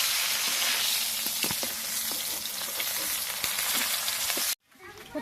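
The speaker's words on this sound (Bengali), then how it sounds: "কচু শাকটা ফোড়ন করে নেব।" Taro greens tempering in hot oil with bay leaves, cumin, chili and ginger-cumin paste, a loud, dense, continuous sizzle with a few stirring knocks, cutting off abruptly near the end.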